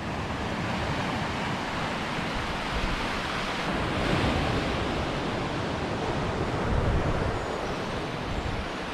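Steady roar of sea waves washing on the shore at Praia da Ursa, loud and continuous, with slight swells in intensity and no voices.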